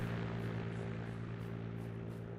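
A propeller plane in a video game drones close and loud, a steady engine hum with layered harmonic tones and faint rhythmic pulsing, with no voices over it.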